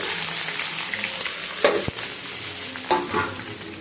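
Chopped onion and chili sizzle steadily in hot oil with curry leaves while being sautéed, with a few sharp spoon scrapes and knocks against the pan cutting through the constant hiss.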